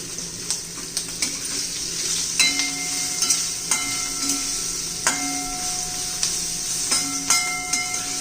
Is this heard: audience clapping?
no